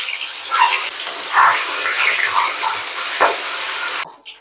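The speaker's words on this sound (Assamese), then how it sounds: "ইয়াত ডিমকেইটা প্ৰথমে ফ্ৰাই কৰি লওঁ।" Eggs coated in salt and turmeric fry in a hot wok, a close, bright sizzling hiss with several crackling bursts and spatters that cuts off abruptly near the end.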